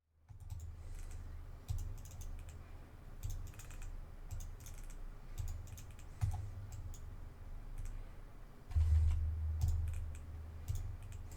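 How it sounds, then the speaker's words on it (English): Rapid left mouse clicks for light attacks in Elder Scrolls Online, a steady close stream of light plastic clicks with a few louder bursts, heard alone without voices. "Let's take a listen to me clicking away to see and hear what this sounds like live"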